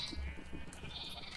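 A sheep in the Minecraft video game bleats, a nasal, wavering cry that rises clearly above a quiet in-game background, heard alone without talk.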